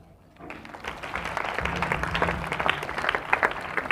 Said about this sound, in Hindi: तो एक बार फिर से थोड़ी जोर से ताली बजाइए तो।